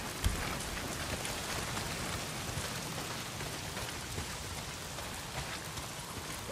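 Heavy rain pours down in the video game Days Gone, a loud, unbroken hiss of drops striking surfaces, with a few sharper spatters and no voices.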